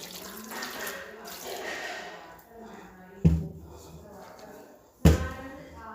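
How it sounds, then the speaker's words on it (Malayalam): A glass of water poured into a cooking pan of jackfruit seeds gives a soft running, splashing flow, broken by two sharp knocks. Speech runs over parts of it. "ഇതിനൊരു ഗ്ലാസ് വെള്ളം ഒഴിച്ചിട്ടു"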